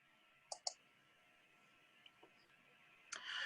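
Two crisp mouse clicks close together, followed later by fainter clicks and a soft burst of desk noise, with a quiet steady room hum beneath and no talking.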